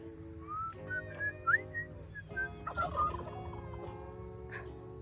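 A person imitates a turkey with a rapid, warbling gobble and whistly chirps, fairly quiet, over a steady low background hum.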